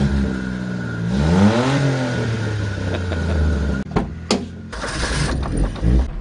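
Mini truck engine starting up and driving off, a loud close rising rev with a cranking start and shifting pitch, then clunks and a steady running engine.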